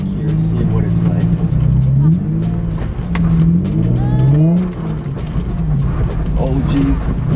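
A Nissan 350Z drives and slides through snow, its engine revving up and down in repeated rising and falling surges. A person talks throughout, the voice close and partly over the engine.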